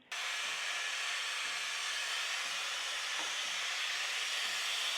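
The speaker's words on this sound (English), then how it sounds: "So first, we want to preheat this. We're going to turn the knob to steam." An espresso machine's steam wand preheats, releasing a loud, steady hiss of steam that starts abruptly and runs unbroken to the end, with no talking.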